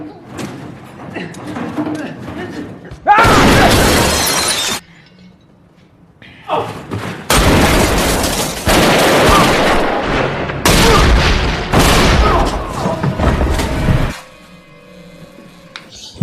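Gunfire and explosions from a film attack scene come in loud, dense bursts of shattering blasts and rapid shots, broken by short quieter gaps, with voices heard between them.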